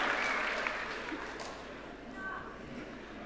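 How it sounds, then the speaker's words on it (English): An audience at a Massey University graduation ceremony in Auckland gives steady, moderately loud applause. The clapping from the many hands fades slightly toward the end, with no talk over it. "please feel free to loudly applaud and congratulate each of the graduands as they cross the stage"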